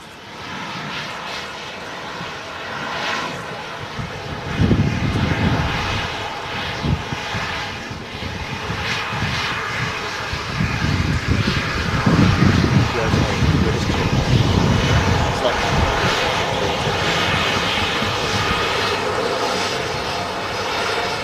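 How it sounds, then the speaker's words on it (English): An Aer Lingus ATR regional turboprop airliner approaching Manchester Airport from Dublin, its steady engine drone heard from a distance with swelling rumbles, under a voice talking throughout. "the Aer Lingus regional ATR is just making the right turn in from Dublin"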